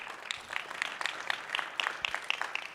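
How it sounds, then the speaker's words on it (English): Clapping from an audience at a youth business conference, a light, somewhat sparse patter of hands with distinct individual claps over a couple of seconds. "Please clap for him again."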